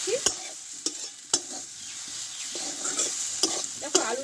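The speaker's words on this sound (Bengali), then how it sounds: "দেখো আলুটা কিন্তু অর্ধেকটা কষানো হয়ে গেছে।" Potato filling being sautéed and stirred in a pan, soft frying hiss punctuated by sharp spoon scrapes and knocks against the pan every half second or so, close and clear.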